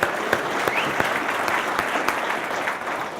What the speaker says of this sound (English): Give Ruth a nice round of applause.